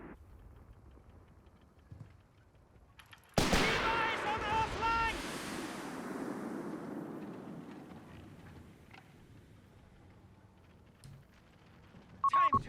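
A heavy blast followed by scattered shots and rumbling in a Company of Heroes 3 battle, one loud boom decaying slowly into quieter distant fire, with a commentator's voice underneath.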